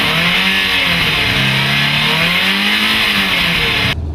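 Ferrari 328 engine revving hard under acceleration, a loud, close, continuous rising roar with sweeping pitch that climbs and dips across the few seconds, cutting off sharply at the end.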